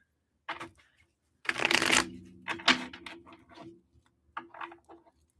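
Tarot cards being shuffled by hand in several bursts of riffling and sliding, close and fairly loud, separated by brief pauses, with no talking.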